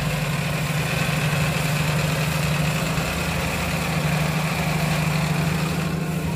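A 1990 Toyota Starlet with a 1.3 engine idles steadily and close up, a constant low hum with even vibration and no revving, alone without any voices.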